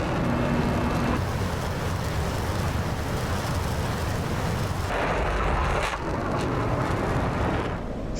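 An F-16 in the DCS flight simulator rolls for takeoff, its engine a loud, continuous broadband roar that holds steady for the full stretch, with a slight shift in tone toward the end.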